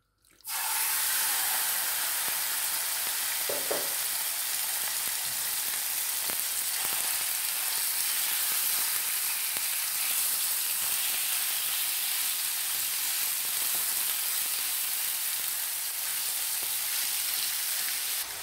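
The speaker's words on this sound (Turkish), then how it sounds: "aralıklarla karıştırarak jülyen doğradığımız tavuk göğüslerimizi kızartacağız" Loud, steady sizzling of julienned chicken breast frying in a wide hot pan, a dense hiss with occasional faint clicks of stirring.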